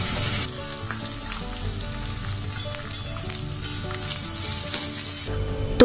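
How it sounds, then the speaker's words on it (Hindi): Finely chopped medium onion frying in hot oil with popped seeds, stirred in the pan: a loud, continuous close sizzle with scraping stir strokes, no voices. "प्याज को चलाते हुए भून लेंगे"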